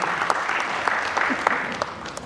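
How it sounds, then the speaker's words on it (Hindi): An audience claps loudly and steadily at a Hindi stage drama during the Patna theatre festival, with dense applause filling the hall. Faint voices carry underneath. "एक बार जोरदार ताली चाहूँगा दर्शकों से।"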